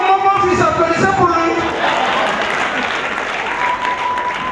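Loud applause from a crowd at a civil wedding evening party, starting over a voice and other sounds, then continuing as dense, even clapping for several seconds.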